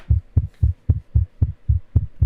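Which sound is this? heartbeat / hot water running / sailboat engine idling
heartbeat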